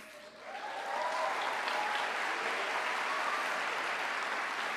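Students and faculty at a high school welcome ceremony applaud the incoming class of 2025, a broad, steady wash of clapping from a large crowd that swells quickly and holds at full strength.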